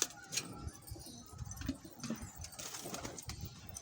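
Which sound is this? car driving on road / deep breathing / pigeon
pigeon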